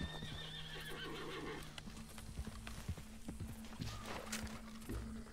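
Faint horse whinnies and snorts with light hoof clops in the background in the video game Red Dead Redemption, fairly distant and quiet, with no talking.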